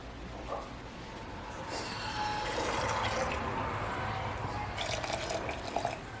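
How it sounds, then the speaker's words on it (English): Hot water poured into a pressure canner during raw-pack canning of bone-in chicken; a continuous splashing pour that builds and swells midway, with brief drips and a few louder splashes near the end, no talk. "let's add some more hot water in"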